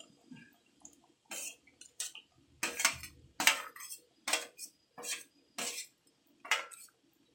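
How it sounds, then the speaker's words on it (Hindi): Chicken goes into a kadai with spices and is stirred, giving a quiet series of sharp metal scrapes and clinks of a utensil against the pan, irregular and close, with near silence between strokes. "अब मैं इसे चिकन को डाल रहा हूँ कढ़ाई में"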